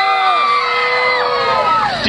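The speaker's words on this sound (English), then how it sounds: "I want to hear you scream on the count of three" A crowd of children screaming and cheering together at a Christmas event in a park, one loud sustained shriek of many high voices rising and falling without a break.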